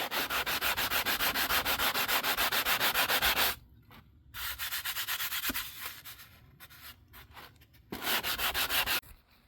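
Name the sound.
sanding wood with a sanding block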